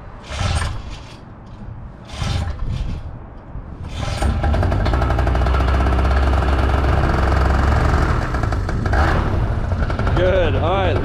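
A paramotor engine runs at a steady idle during outdoor paramotor training in Salt Lake City, a continuous low rumble that rises after about four seconds and holds loud to the end, with people talking intermittently over it.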